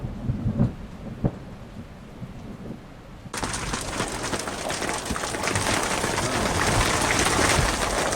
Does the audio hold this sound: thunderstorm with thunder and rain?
yes